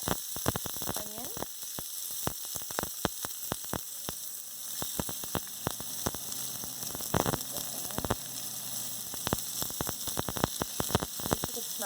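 Onion frying in plenty of oil with browned cumin, a dense crackling sizzle full of rapid sharp pops and spits, steady and close with a faint electrical hum beneath.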